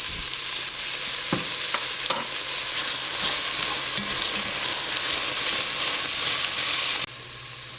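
Garlic sizzles and fries in a pan for Thai curry chicken noodle soup, a steady loud crackling hiss with a few stirring knocks, the sizzle easing slightly near the end.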